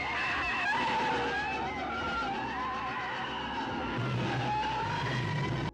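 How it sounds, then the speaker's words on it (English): A giant spider in a horror movie lets out a loud, continuous, warbling screech that holds for about six seconds, with a rough rumbling layer underneath and no talking. "it chases them, making some sort of screeching sound?"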